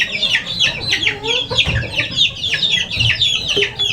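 Month-and-a-half-old chicks drinking dewormer water keep up close, busy peeping and soft clucking, with many overlapping calls and light shuffling beneath.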